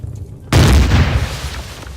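A turret is destroyed by a heavy, booming explosion in Empyrion: Galactic Survival, hitting suddenly and rolling on as a loud, sustained rumble that slowly fades.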